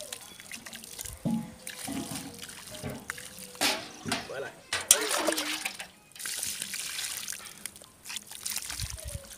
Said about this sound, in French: après ça, nous allons donc arroser